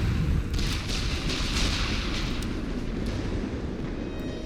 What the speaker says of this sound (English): Their artillery is doing a number on us.